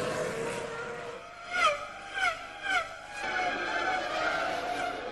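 Formula 1 cars from the 2002 season scream past in quick succession during an overtake, three sharp rising-and-falling engine whines over a continuous background of racing engine noise.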